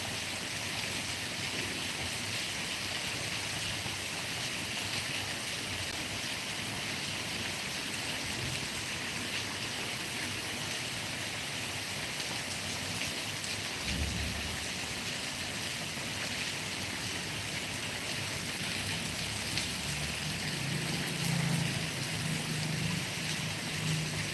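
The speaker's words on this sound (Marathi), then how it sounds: "हा पाऊस जो बरसतो यासाठी तर खूप दिवसापासून वाट बघत होतो पावसाची जोरदार पावसाची" Steady, dense hiss of heavy rain pouring continuously, with an occasional low thump underneath.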